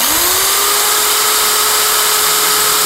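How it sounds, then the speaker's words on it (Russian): An electric drill spins a flywheel up to speed, its whine rising in pitch at the start and then holding a loud, steady high tone for the rest of the clip. "раскручиваю его с помощью дрели"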